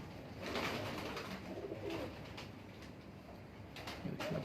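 Pigeons coo steadily throughout among show-quality birds, a continuous soft murmuring of several doves close by with no talk over it.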